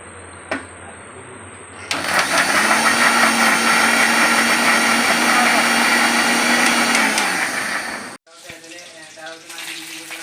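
An electric blender grinds spices for a Bengali mutton curry, starting abruptly and whirring loudly and steadily for about six seconds before cutting off, with quieter kitchen clatter before and after.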